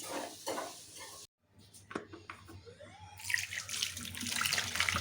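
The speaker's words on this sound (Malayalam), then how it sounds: "നമ്മളെ മാങ്ങ തൊലിയൊക്കെ ചെത്തി നല്ലതുപോലെ കഴുകിയെടുക്കാം." Tap water runs and splashes while peeled mangoes are washed in a kitchen, a faint flow that briefly cuts out, then returns as louder, fuller splashing toward the end.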